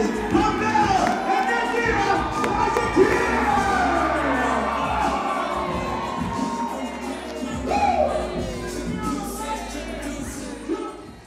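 Wedding guests at a reception in Wood-Ridge, New Jersey cheer, whoop and shout together in a loud, sustained crowd roar that rises in bursts and continues throughout.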